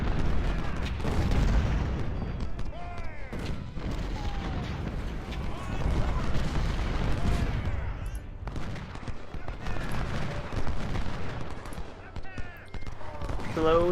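Cannon and artillery fire from the Civil War strategy game Ultimate General: Civil War, with repeated booming shots and crackling volleys layered densely throughout, alongside game effects and someone talking over the action.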